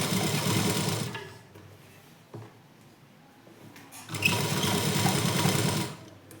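Domestic sewing machine stitching a plain blouse without piping, running in two loud steady bursts of rapid stitching separated by a quieter pause with a brief click.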